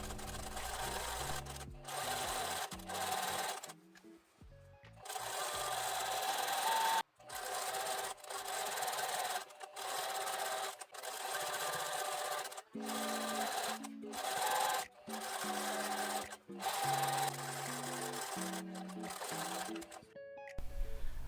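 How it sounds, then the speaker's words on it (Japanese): A sewing machine stitches around the armhole of a jumper skirt, whirring in steady runs broken by short stops, close and clear with a little handling noise between passes. "袖ぐりをもう一度アイロンで整えてステッチをかけます"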